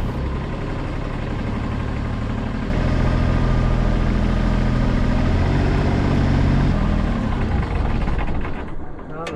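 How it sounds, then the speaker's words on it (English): A Catalina 30 sailboat's engine runs loudly nearby, speeding up partway through and then slowing until it dies on throttling down near the end, while a person talks over it. "Listen here as the engine eventually dies when I throttle down."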